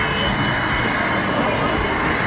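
Scale model Korean Air jet at one twenty-fifth real size taxiing at a miniature park in Amsterdam, a steady broadband engine roar with crowd murmur underneath.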